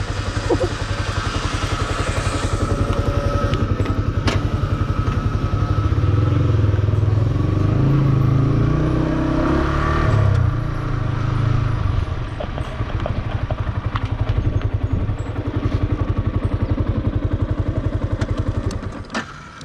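A Yamaha R15M motorcycle engine starts up unprompted and runs, a loud steady rumble with thumping, clattering mechanical texture and a few revs that holds throughout, close by, with no talking.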